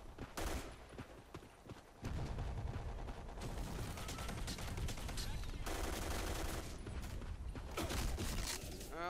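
Assault rifle fire in the game Black Squad, with a few sharp shots followed by sustained rapid automatic bursts, loud and dense, mixed with mechanical game effects.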